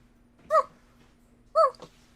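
During a Dungeons and Dragons game, a person imitates a dog with two short, yipping barks about a second apart. Both are close and clear over a quiet background with a faint steady hum.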